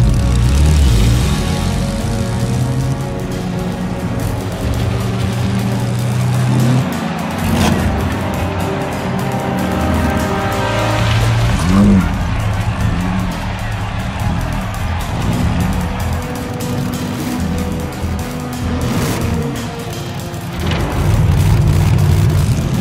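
Race cars idling and revving on the grid before a race in The Saboteur video game, rumbling engines swelling and dipping with a crowd murmuring behind, loud and close throughout.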